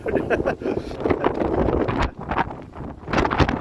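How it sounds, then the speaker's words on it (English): Cold wind blows outdoors on a downtown Toronto street on a Sunday afternoon, buffeting the microphone in loud, uneven gusts with rumbling bursts and brief lulls. "now the wind is pushing us"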